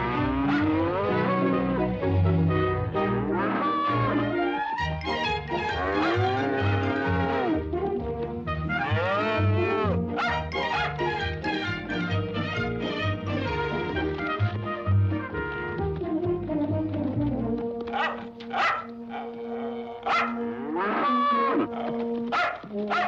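Herd of cattle brought in from pasture, low mooing calls layered under a busy swelling orchestral backdrop, fairly faint and sustained, with no voices.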